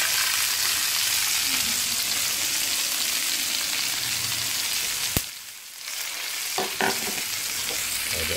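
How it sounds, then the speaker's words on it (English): Carrot and sweet pepper sizzle and fry steadily in a frying pan for gravy, a constant close crackle broken briefly by a sharp clack and a short lull before the sizzling resumes. "I'll be adding this, which is some carrot, sweet pepper, to my frying pan."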